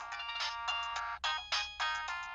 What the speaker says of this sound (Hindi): पहले फोन लगा, स्पीकर ऑन कर।